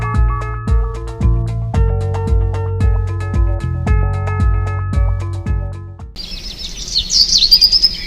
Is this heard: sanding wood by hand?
no